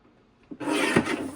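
A blade slides along a paper trimmer's guide, cutting the edge of a scrapbook page in one short, dry rasp that follows a soft tap of placement.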